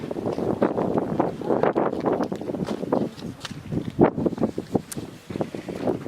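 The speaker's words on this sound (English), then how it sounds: "And it's very windy." Strong, gusty wind blowing across the microphone at Bryce Canyon among the hoodoos, a continuous rough rumble with irregular buffeting bursts.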